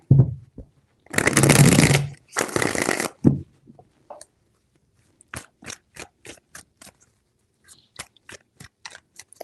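Two long bursts of tarot cards being riffled and shuffled, followed by a quick run of crisp, evenly spaced taps as the cards are laid down or squared up.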